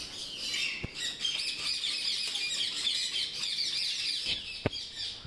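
Constant high-pitched parrot chatter and squawks, a dense flock calling nonstop, with a couple of sharp clicks or knocks.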